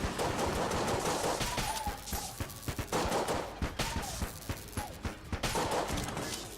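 Rapid gunfire in a video game, dense bursts of shots with sharp repeated cracks over a loud, continuous backdrop, close and intense throughout.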